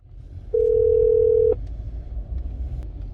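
A single long steady phone tone lasting about one second as a call connects after an automated privacy safe-call message, heard over a low car-like rumble.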